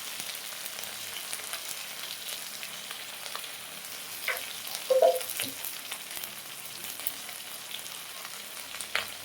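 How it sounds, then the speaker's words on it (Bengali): Hand-ground spice paste with garlic and a spoon of turmeric frying in a pan gives a steady crackling sizzle, with a short stirring clatter partway through and no voices. "এখন মশলাগুলো কষাচ্ছি।"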